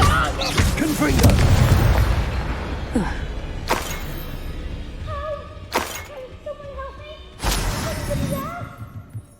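Confringo blasting spell explosions in the video game Hogwarts Legacy: a big booming blast followed by several sharp cracking bursts spaced a couple of seconds apart, with in-game voices shouting and talking among them.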